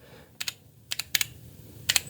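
Keystrokes on an old computer keyboard plugged into a modern computer, sounding as a few sharp clicks in small clusters with short pauses between them, close and clear against a quiet room.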